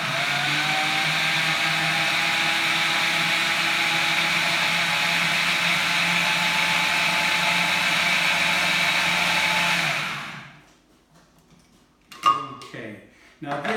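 Blender whizzing consommé with a sheet of gelatin, a steady loud high-pitched motor whir running continuously for about ten seconds before stopping abruptly, followed by faint kitchen clatter.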